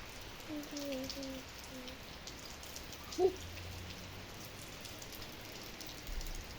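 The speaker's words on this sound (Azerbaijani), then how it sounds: "Həm də baxın necə yağış yağır." Heavy rain falls steadily outdoors, a constant soft hiss of drops on surfaces with one brief knock near the middle and a faint voice murmuring far in the background.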